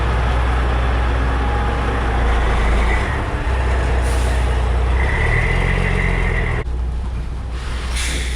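A truck hauling a road grader pulls onto a farm, its loud, close diesel engine rumbling throughout with a burst of air-brake hiss near the end.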